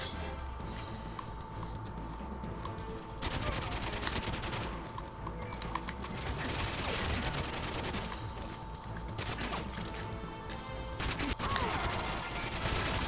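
Gunfire from the video game GoldenEye, with repeated shots and bursts running steadily under a dense, loud game soundtrack for the whole stretch.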